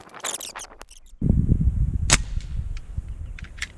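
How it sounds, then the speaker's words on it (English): A single rifle shot goes off outdoors while a scope is being zeroed: one sharp, loud crack about a second in, followed by a rolling echo that fades, with a few faint clicks before it. "Shot number 2. That was in the black."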